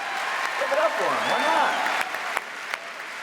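Audience applause at an Adobe MAX Sneaks 2023 presentation, a steady patter of clapping from the crowd lasting several seconds while a presenter's voice carries over it.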